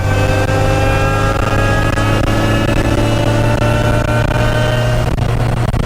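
A loud 998 engine of about 90 horsepower drones continuously at high revs with a steady buzzing pitch that climbs slightly, close and unbroken throughout, with no voices.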